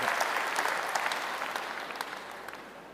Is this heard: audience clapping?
yes